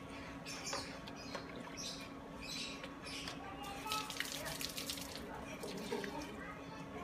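Water splashes and trickles steadily onto garden plants being watered, a soft continuous pour heard up close under occasional talking voices.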